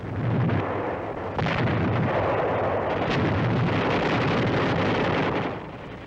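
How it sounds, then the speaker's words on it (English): Bombing explosions on Corregidor in a 1945 war film: a loud, sustained rumbling roar with a couple of sharper blasts breaking through, heard alone with no talking. "The Japs are bombing us from outside."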